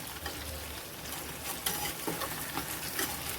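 Marinated tandoori chicken pieces sizzle steadily in a pan on a low flame, a dense crackling hiss with a few brief louder spatters as the pieces are gently turned over.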